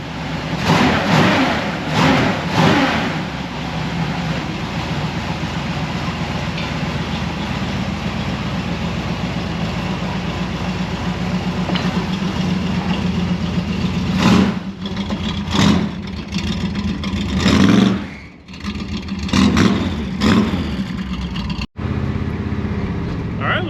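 A 1966 Chevy Biscayne's engine runs steadily and revs while driving, a loud continuous rumble with a few surges and dips toward the end, with some talk in the cab over it.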